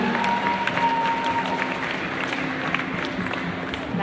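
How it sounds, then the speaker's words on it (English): At an award ceremony, a crowd applauds and cheers in a steady, moderately loud wash of clapping, with a sustained musical tone and some faint voices mixed in. "Big round of applause for Gazelle."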